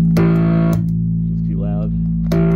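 Bass guitar through a fuzz box pedal on a pedalboard, loud sustained distorted notes with a brief gap and a softer fretted slide in the middle before another fuzzy note rings out.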